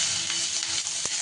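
Chopped ginger hitting hot white oil in a kadai gives a dense, steady sizzle with a small knock near the end, close and continuous, no voices.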